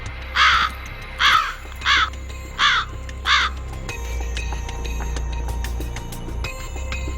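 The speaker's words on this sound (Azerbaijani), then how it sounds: "qarğaların qarıltısı yuxudan oyadır" Crows caw in a Baku park, five harsh calls in a steady rhythm, fairly close and loud, followed by a low outdoor rumble with faint scattered bird chirps.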